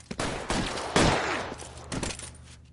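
Gunfire in the crime video game L.A. Noire during a shootout, several loud close bursts of shots in quick succession with no talk.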